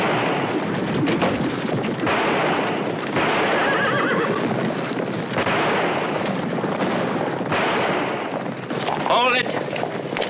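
A horse whinnies loudly amid a busy Western standoff scene, with dense action noise, hoofbeats and possible gunfire layered throughout and a sharper neigh rising near the end.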